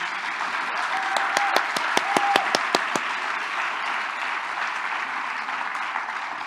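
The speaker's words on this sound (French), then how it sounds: "On applaudit les personnes âgées. Très fort, si c'est vrai." A crowd applauds the elderly during a religious talk, sustained even applause across the whole stretch with a few sharp, close claps standing out early on.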